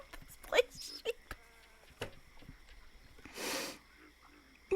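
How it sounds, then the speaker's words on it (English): A sheep bleats with a warbling voice in Baldur's Gate 3, a few short wavering cries scattered among quieter game sounds and a brief hiss of noise. "The sheep's voice warbles."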